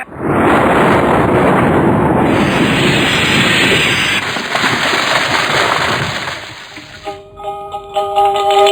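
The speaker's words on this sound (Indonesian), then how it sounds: "Aku seperti mendengar suara ledakan keras dari arah sana datangnya." In a radio drama, a dragon sword unleashes a loud, roaring explosion that fills the first several seconds and then fades into rumbling debris and trailing effects.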